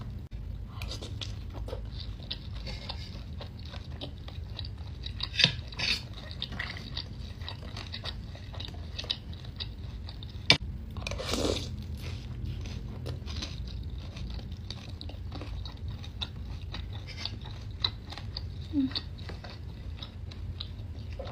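Cireng soaked in cheese sauce is chewed close to the mouth: steady soft wet mastication with occasional crunchy bites and clicks, continuous over a low background hum, with no talking.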